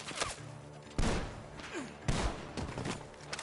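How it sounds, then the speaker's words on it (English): Gunfire in Red Dead Redemption 2: three sharp, heavy shots about a second apart, each with a booming thud and decaying echo, fairly close, over quiet background ambience. "gunshot!"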